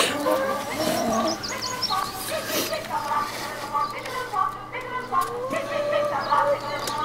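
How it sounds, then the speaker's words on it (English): Backyard hens cluck and squawk in bursts near the microphone while a person talks over them, the calls rising and falling in an uneven, busy rhythm. "Noisy chicken."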